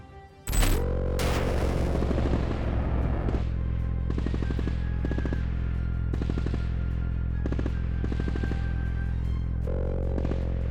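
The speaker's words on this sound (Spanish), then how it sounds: "en el momento exacto en que liberó una granada sobre posiciones enemigas." Grenade dropped from a drone exploding on enemy positions, heard as one sudden loud blast followed by a sustained roar with repeated crackling bursts.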